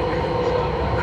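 A Delhi Metro train rides along, a steady loud rumble and rolling hum from inside the carriage, with someone talking over it.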